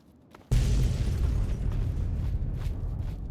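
A chain reaction of explosions in Fallout 3 at Seward Square sets off with a sudden loud boom, then rumbles on as a heavy, rolling roar that slowly fades, with no talking.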